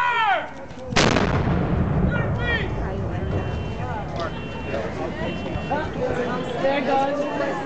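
A reenactment cannon fires at the Battle of Trenton: one deafening boom with a rolling echo that lingers for several seconds, while a crowd of voices murmurs afterward.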